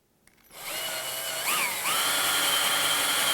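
A power drill spins up to a steady high-pitched whine as it bores holes through a wooden dolly platform, close and loud with a brief pitch wobble partway through, no talking.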